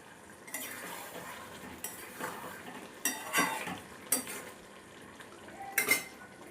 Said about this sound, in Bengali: ঢাকনাটা খুলে নেব, নিয়ে আরেকবার নাড়িয়ে দেব।